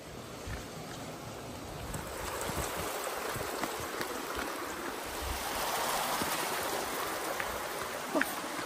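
Irrigation water runs through a farm field at night, a continuous rushing, bubbling wash that swells slightly midway. It stays steady throughout with no voices.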